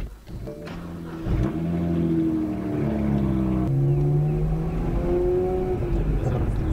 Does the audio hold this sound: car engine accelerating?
yes